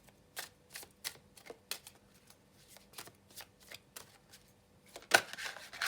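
Oracle cards are shuffled by hand in a series of soft, close riffling bursts at a steady rhythm, ending in a louder flutter and slap as the deck settles.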